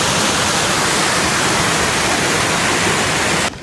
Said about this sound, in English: there's a good bit more water coming off the spillway than there is going through that pipe